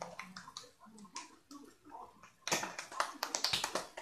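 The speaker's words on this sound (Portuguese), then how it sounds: "Essas foram as palmas." Hand clapping: a few soft, scattered claps and taps at first, then a louder, quick run of sharp claps close to the microphone near the end.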